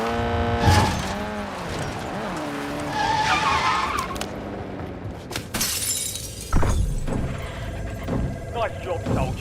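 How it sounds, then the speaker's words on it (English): Glass shatters in the shooter game Call of Duty Warzone, with sharp breaking bursts over steady game noise, engine-like rumble and a voice talking. "Doesn't help that I'm making all sorts of noise. I'm breaking glass"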